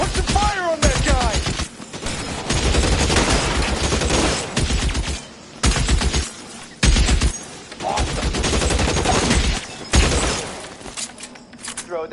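Repeated bursts of gunfire in the L.A. Noire arson case shootout, loud and close, coming in sharp clusters with brief gaps and occasional shattering, while voices shout over the shooting.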